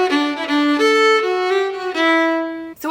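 A bowed fiddle plays a short phrase of a traditional Irish jig, sustained notes with quick ornamented sixteenth-note subdivisions, clear and close with no talking.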